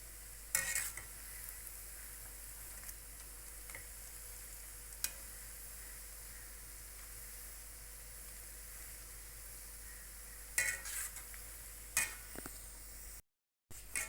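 Chayote bondas fry in hot oil while being turned, a steady low sizzle running under a few faint scrapes and light utensil clinks, with no voices.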